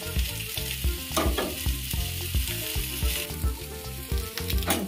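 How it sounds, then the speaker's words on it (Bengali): Chana dal with green chilli, turmeric and cumin sizzles in hot mustard oil, a loud continuous frying hiss with bubbling crackle and occasional stirring, close and alone. "সরিষার তেল দিয়ে এখন ফুটছে এই যে ছোলার ডাল"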